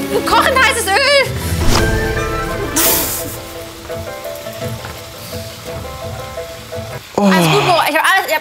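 Boiling hot oil sizzling loudly as food fries in a home kitchen mishap, a steady crackling hiss with bursts of spattering, while someone talks and exclaims over it.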